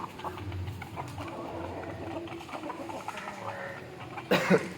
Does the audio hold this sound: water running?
no